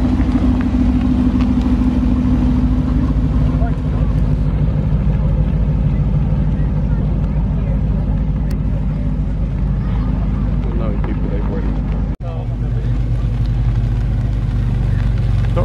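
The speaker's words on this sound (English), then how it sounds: "Porsche 911 GT3 992 edition also departing, and Aston Martin DB11 as well." A Porsche 911 GT3 992 edition and an Aston Martin DB11 departing a supercar weekend at Beaulieu, steady loud engine rumble mixed with heavy wind buffeting and crowd noise, voices present throughout.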